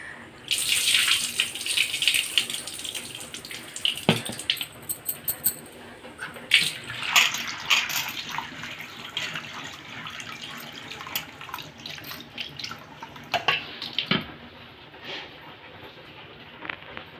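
Green gram dal is rinsed under a running tap in a kitchen sink, with water flowing and splashing in irregular bursts and sloshing throughout, no speech heard.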